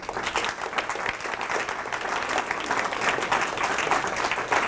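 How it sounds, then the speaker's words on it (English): A school auditorium audience at a middle school speech contest applauds parents, steady dense clapping from a large crowd that holds strong throughout without pause. "we ought to applaud parents who give a good helping hand to these kids"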